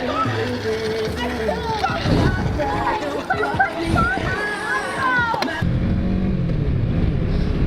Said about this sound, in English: So just stopped at a free car wash.